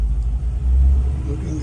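The engine of a 1956 Mercury Monterey two-door hardtop turns over and settles into a loud, close, low rumbling idle, heavy and steady for its short length.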